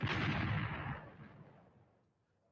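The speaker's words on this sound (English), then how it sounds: "Let me get some gunshots." A single loud gunshot sound effect booms and rolls off into a fading tail lasting over a second, followed by silence.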